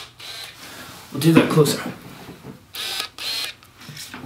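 A brief whirring, buzzing burst of a Tamron 28-75mm f/2.8 lens autofocus motor in the middle, close and fairly loud, with someone speaking softly around it.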